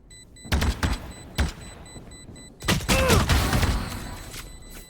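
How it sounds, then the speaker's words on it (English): Spike detonation in a Valorant esports match, heard as a loud, sustained blast with a dense roar and whine that rises after some earlier sharp in-game gunshots and mechanical clicks. "the spike explosion will not catch them"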